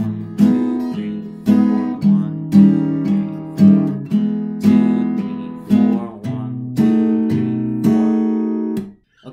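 Guitar chords for the song strummed close and loud in a steady rhythm, with regular harder accents that fall on beats 2 and 4 and a few chord changes before the playing cuts off.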